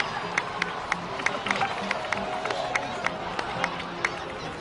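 In-game crowd in Genshin Impact's Natlan setting claps and cheers, a busy stream of applause punctuated by sharp, evenly spaced hand claps close by.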